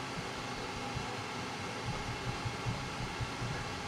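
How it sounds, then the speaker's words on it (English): A Flashforge 5M Pro 3D printer running fast with its door open, sitting on a couch: a steady, loud whirring hum with small rhythmic mechanical ticks from the moving print head, alone without talk. "it's a pretty fast printer. It's pretty noisy because, of course, I left the door open so I can film."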